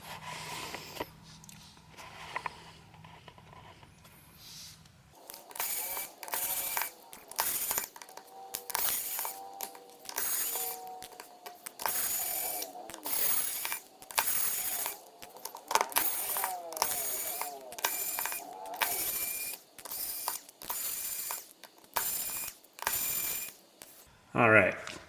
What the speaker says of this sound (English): let's take out all the screws